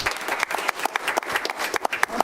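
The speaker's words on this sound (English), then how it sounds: "we do want to give them a round of applause" A small audience at a city council meeting applauds award winners with brief, scattered hand claps that rise and fall over a couple of seconds in a quiet room.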